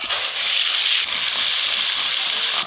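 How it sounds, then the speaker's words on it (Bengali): Fish oil frying in a pan gives a continuous bright sizzle and hiss, close and fairly loud, with no voices over it. "এবার মাছের তেল ভেজে নেব।"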